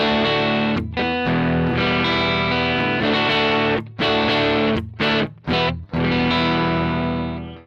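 Electric guitar played on the neck pickup through a Marshall JTM 1 50th Anniversary head, ringing sustained chords with mild breakup, loud and continuous with a few brief pauses before fading out.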